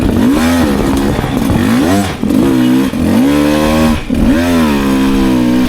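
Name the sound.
Beta 300 RR motorcycle engine pulling in third gear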